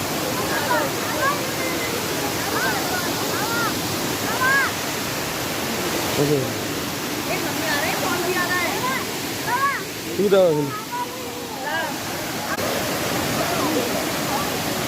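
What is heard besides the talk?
Elephant Falls waterfall in Shillong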